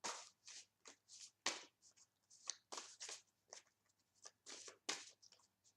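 Tarot cards riffled and shuffled by hand in bursts of crisp, papery flicks with brief pauses between, close and fairly quiet, with no voice over them.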